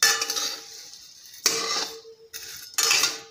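Vermicelli roasting in homemade ghee in a pan comes through as bursts of scraping and stirring, with metallic clinks of a utensil against the pan, close and separated by short pauses.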